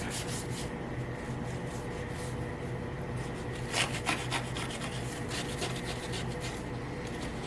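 Abrasive cloth rubs across the paint of a 2021 Chevy 2500 truck, making a steady, close rasping scrub that runs continuously, with a few slightly louder strokes midway.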